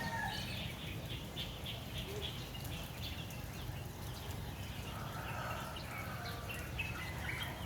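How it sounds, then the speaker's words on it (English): Many small birds chirp and tweet continuously against a dense outdoor rumble, calls overlapping and fairly distant, with no one speaking. "lots of birds fly from the sky"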